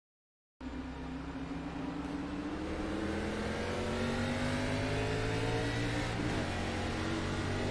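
Race car engine in an ARCA Pro Series racing video game, starting abruptly after a brief silence and then revving steadily upward in pitch, loud and close, with a short dip near the end that suggests a gear change.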